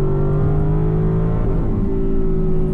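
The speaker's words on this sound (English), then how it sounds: "Just stayed out of the rev limiter there." A 2020 Audi RS6 Avant's engine revs hard near its rev limiter, a loud, sustained, steady drone from inside the car with no voices over it.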